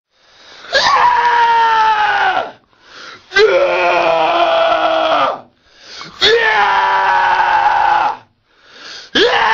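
Three long, loud anguished screams, almost bleating, each lasting about two seconds with short gaps between, and a fourth starting at the end; no talking.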